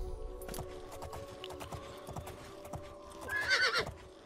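A horse whinnies loudly near the end over a steady run of clip-clopping hooves and a droning soundtrack in the game The Elder Scrolls IV: Oblivion.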